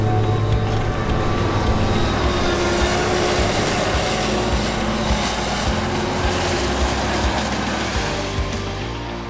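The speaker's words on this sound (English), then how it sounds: "as you can easily tell from the exhaust, the V12 MAN engine under the bonnet is definitely firing at" A Claas Jaguar forage harvester with an 850-horsepower V12 MAN engine runs at full load in the field, giving a loud, continuous, heavy drone that stays steady close by and eases slightly toward the end.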